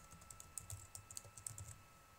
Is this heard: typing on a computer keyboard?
yes